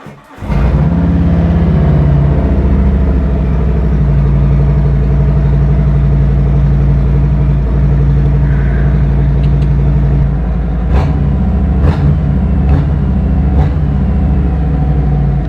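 A Harley-Davidson Road Glide motorcycle engine fires up after an air filter and spark plug change and settles into a loud, steady idle that rumbles on for a long stretch, with a few faint clicks near the end.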